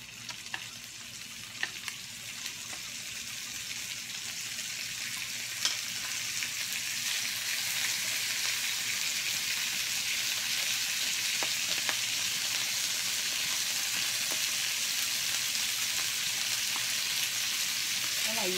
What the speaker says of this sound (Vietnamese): Cái này vừa chiên cho nó thơm lên là ăn được hả?